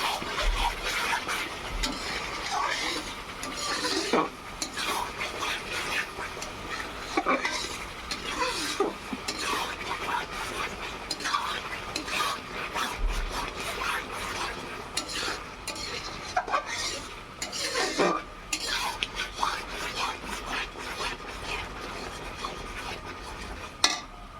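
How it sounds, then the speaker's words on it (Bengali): Onion and garlic being stirred in a pan for mutton curry at a family picnic, with a steady scraping of a spoon against metal, repeated rubbing strokes and a soft sizzle underneath. "পেঁয়াজটা একটু রসুনটা দিয়ে নাড়াচাড়া করে নিলাম"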